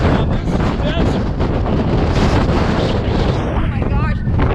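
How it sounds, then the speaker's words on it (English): Strong desert wind roars across a microphone among the Trona Pinnacles, a constant loud buffeting rumble with no letup. A voice is faintly heard under the gusts. "you guys, it's so windy"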